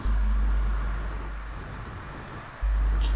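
A car in GTA 5 swings through a U-turn in a small parking lot without braking, its engine a low steady drone that drops slightly mid-turn and then surges back as it accelerates away.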